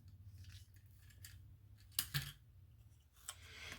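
Scissors snip a small strip of tape, two brief sharp cuts close by in a quiet room while an autumn planner spread is being decorated.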